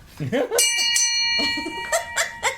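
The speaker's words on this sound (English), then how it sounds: "Gotta have the bell make an appearance." A bell rings with a clear, sustained tone that lingers, struck again partway through, while people talk and laugh around it in a relaxed social setting.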